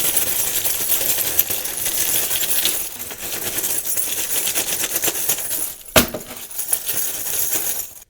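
Keys shake and rattle against an Apple Watch inside a zipped bag, a dense continuous jingling and clinking that runs almost without a break, dips briefly, then ends in one sharper knock.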